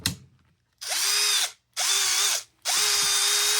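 A brand new Snap-On CTS761 brushed 3/8-inch cordless impact wrench motor whirs in three bursts, each spinning up and cutting off with short pauses between them, with inconsistent reverse.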